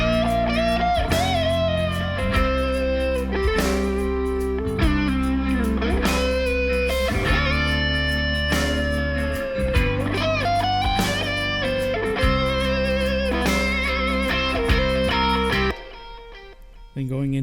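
Full worship-style arrangement of How Great Thou Art with organ and an added tambourine, steady loud mix with rhythmic percussive hits throughout, cutting off near the end.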